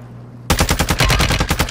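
Rapid automatic gunfire in Warzone 2.0 bursts in suddenly after a quiet moment, a loud close string of about a dozen evenly spaced shots.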